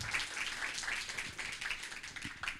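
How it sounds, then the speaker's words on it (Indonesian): Audience clapping for a speaker at a Science Underground talk in Indonesia, fairly quiet and a little distant, with a scattered, uneven patter of hands and a few clearer individual claps. "Kita tepuk tangan yang meriah untuk Prasdianto."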